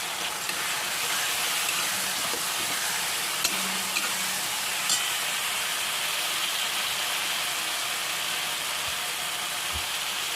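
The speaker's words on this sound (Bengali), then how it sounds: "তারপরে লবণ দিয়ে বেশ নেড়ে নিলাম।" Food being stirred in a frying pan after salt is added, a soft continuous sizzle with faint scraping, fairly quiet and alone.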